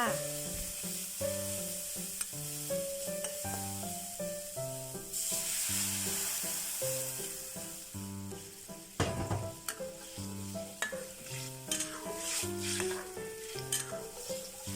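Fermented soybean paste and garlic sizzle and fry in a pan with occasional stirring scrapes, all under steady background music.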